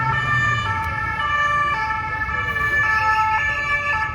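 Police motorcade sirens wail loudly on a busy Paris street at St Michel, several overlapping tones shifting pitch continuously over a steady rumble of road traffic.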